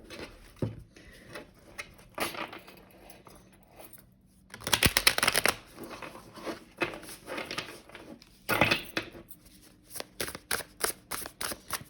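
Tarot cards being shuffled by hand, coming as repeated soft riffles and slides in irregular bursts with short pauses between them, close and quiet, with no talking.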